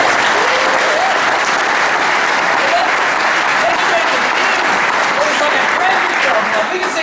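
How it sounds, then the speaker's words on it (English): A keynote audience at a conference gives steady, dense applause that holds loud and unbroken for several seconds. "So another round of applause."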